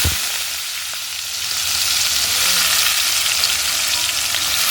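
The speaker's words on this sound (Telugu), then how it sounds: "తాలింపు గింజలు వేగాయి" Loud, steady sizzling and crackling of seeds frying in hot oil, close up and continuous, with no voices.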